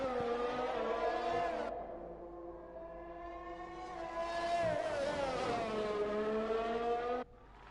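An F1 car's engine screams through a flying lap at Singapore in the F1 2020 video game, rising and falling with gear changes. It drops to a lower drone, climbs again into a loud high-pitched wail, then cuts off abruptly at the end.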